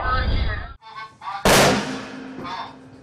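A single loud, sharp blast from the frigate's naval gun during an exercise cuts in sharply and decays into a rumbling tail. Honking, goose-like sounds come before it.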